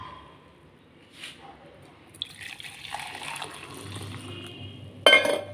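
Boiled coffee sweetened with palm jaggery being strained and poured with water in a home kitchen: a steady, splashing pour rises after a quiet start and runs for a few seconds, ending in a sharp, louder clatter of liquid.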